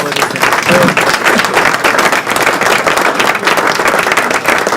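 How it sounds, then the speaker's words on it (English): Audience applause at a live Moscato Sundays club event, a dense, loud wash of many hands clapping that holds steady throughout, with a faint voice briefly audible under it. "Another round of applause."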